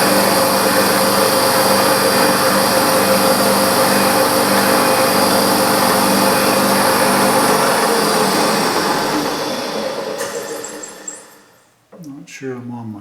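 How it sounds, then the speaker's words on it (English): A machine spindle whirs steadily while center drilling a hole in a spool valve engine part, a continuous high mechanical drone that winds down and stops near the end, followed by brief clicks. "I'm going to center drill it and then drill it."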